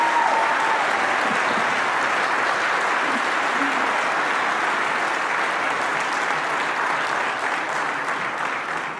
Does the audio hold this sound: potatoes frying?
no